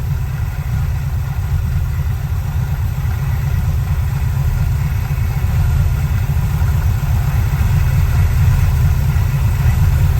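Car engine idling on an Edelbrock carburetor while its idle mixture screws are adjusted, a low, steady, slightly uneven rumble that holds close and even throughout with no talking.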